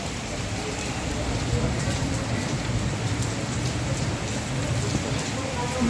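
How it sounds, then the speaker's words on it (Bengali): Heavy rain pours steadily during a thunderstorm, a dense, continuous roar close by with no break. "ঝমঝম করে পুরো বৃষ্টি পড়ছে"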